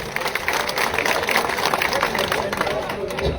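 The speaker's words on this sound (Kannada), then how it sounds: "ಜೋರಾದ ಚಪ್ಪಾಳೆ ಮೂಲಕ ಸ್ವಾಗತ ಮಾಡಿಕೊಳ್ಳಿ" A crowd at an outdoor farmers' gathering in Gurlapur applauds to welcome the swamiji of the Mugulkhod Math to the stage, a dense, steady wash of clapping and crowd noise with babble throughout.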